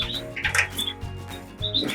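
Small cage birds, Border canaries at a bath, give short high chirps and tweets close by, with light splashing and fluttering between calls.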